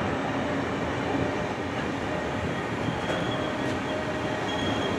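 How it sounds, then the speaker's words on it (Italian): A train runs through an Italian station platform, a close, steady rumble of wheels on rails with faint high squeals and no voices. "Treno in transito al binario 1, allontanarsi dalla linea gialla."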